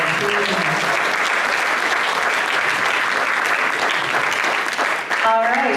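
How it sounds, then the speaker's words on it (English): Loud, close applause from a crowd honoring parents at a high school football championship ring ceremony, continuous dense clapping that cuts off near the end as a voice begins over a microphone. "Let's give them a round of applause, please."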